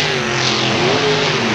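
Drag race car doing a snaky burnout while pulling up to the starting line at London Motorsports Park, its engine holding a loud, steady, slightly wavering roar with no break.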